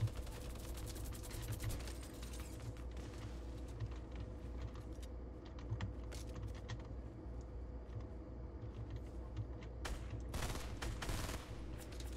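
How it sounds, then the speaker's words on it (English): Rapid minigun fire from the Fortnite video game, a sustained stream of quick shots at moderate level with mechanical whirring, set against a busy game soundscape, with no talking. "The minigun, bro!"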